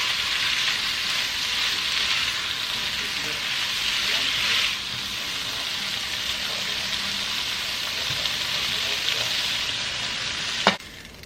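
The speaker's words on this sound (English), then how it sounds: "I added some garlic paste in there and we're just going to stir fry them." Shrimp stir-fry with garlic paste in a hot pan, a steady close sizzle with stirring that eases slightly midway and ends with a sharp utensil clink.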